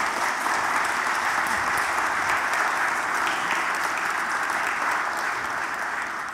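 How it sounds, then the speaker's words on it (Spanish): Sustained audience applause at a talk in Spanish, dense and steady throughout, with a faint voice briefly audible beneath the clapping. "Un aplauso, por favor."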